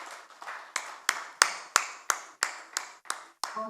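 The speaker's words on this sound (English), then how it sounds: "with a huge round of applause, let's welcome our chief guest, Shri Nitin Gadkari ji, onto the dais" Applause greets chief guest Nitin Gadkari onto the dais at an awards ceremony: a sparse, even run of about ten sharp hand claps at a steady beat, close and distinct rather than a large crowd's roar.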